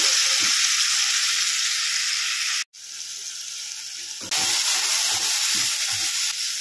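Tomato paste sizzles steadily in a little ghee for mutton curry, a loud continuous hiss broken by a brief drop near the middle and soft stirring scrapes throughout, with no talk.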